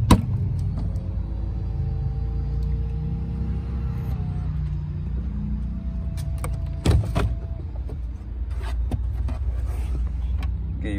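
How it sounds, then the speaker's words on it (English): The power trunk of a 2012 Mercedes-Benz SL550 AMG whirs as its motor moves the lid, a smooth electric hum over a low rumble with a soft thunk partway through. "Get a power trunk."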